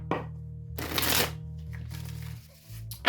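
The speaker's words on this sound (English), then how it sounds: "Let's pull Oracle cards." Oracle cards being shuffled and drawn for a tarot reading, with a close, loud riffling burst followed by softer sliding and shuffling over a constant low hum.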